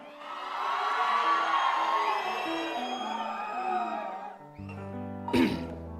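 Concert audience whooping and cheering for a Telugu folk singer, a dense crowd roar lasting several seconds, then a short loud burst of shouting near the end.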